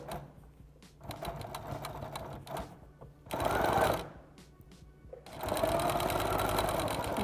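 A sewing machine quilts around an appliqué on athletic fabric, running in rapid stitching bursts that stop and restart, with a louder sustained run near the end, close up and without talk.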